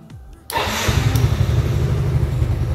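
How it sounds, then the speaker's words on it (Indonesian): A motorcycle engine cranks and catches after a quiet pause, then settles into a loud, steady idle while still cold, with a low rumbling pulse continuing close by. "Please start engine, kita start engine."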